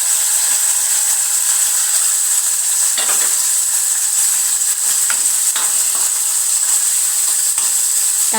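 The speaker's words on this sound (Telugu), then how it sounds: "తాలింపు వేడెక్కిందండి. ఇప్పుడు ఉల్లిపాయ, కరివేపాకు వేసుకుందాం." Chopped onion and curry leaves dropped into hot tempering oil for a tomato curry, frying with a loud, steady sizzle, punctuated by scraping stirs and crackling pops.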